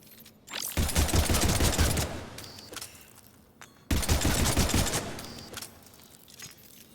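An SMG fires on a Mass Effect 3 test range in two rapid automatic bursts, each about a second and a half long, loud and close, with short pauses and mechanical clicks between them.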